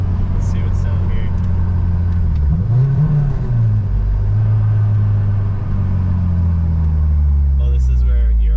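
A Mazdaspeed6 turbo engine pulls hard under boost, heard from inside the car: a loud, steady low rumble with a rising and falling engine note, under continuous road noise.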